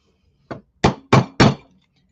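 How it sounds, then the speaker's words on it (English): A rawhide hammer strikes a sterling silver ring four times in quick succession, each a sharp, close, dull thwack, the first lighter than the rest, with silence between and after. "I'm just going to start hammering, and because this is a rawhide hammer, it's not leaving any metal"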